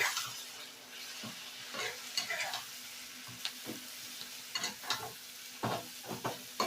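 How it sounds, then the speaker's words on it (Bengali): Spices and Kashmiri chili powder sizzle steadily in a hot pan for spicy chicken kosa made without garlic or ginger, as a spatula stirs and scrapes through them in repeated strokes, close-up with a constant hiss underneath and no talking. "দিয়ে এবার মশলাটাকে ভালো করে আমি কষিয়ে নেব।"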